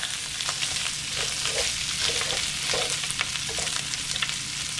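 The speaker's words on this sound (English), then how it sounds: "And we're just gonna start breaking it up in the pan like that." Meat sizzling in a pan while being broken into crumbles, a steady bright frying hiss with soft scraping and stirring strokes repeating, close up, with no talking.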